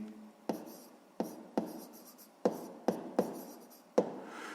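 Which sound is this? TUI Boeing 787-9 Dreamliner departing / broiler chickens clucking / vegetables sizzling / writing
writing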